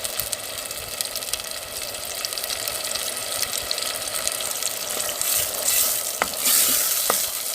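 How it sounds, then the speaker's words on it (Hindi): Blended onion and spice paste fries and stirs in cooking oil, giving a steady close sizzle with wet scraping and a few sharp clicks near the end, no voices. "ब्लेंड प्याज और मसालों की हम अच्छी तरह से भुनाई करेंगे।"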